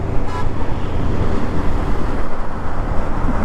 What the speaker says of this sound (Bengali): ও আজকে দেখি ভালোই বাসের চাপ আছে।